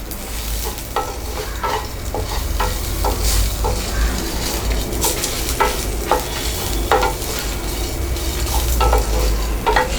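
Lentils and onion roast in a hot pan, with continuous sizzling and frequent scraping stirs of a spatula, heard close with no talk.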